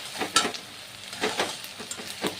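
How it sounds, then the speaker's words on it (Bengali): Chopped onions and slit green chillies frying in a pan make a soft, quiet sizzle broken by several crisp stirring scrapes at irregular intervals, with no speech. "পেঁয়াজগুলো দিয়ে দেবো, কোচানো পেঁয়াজ।"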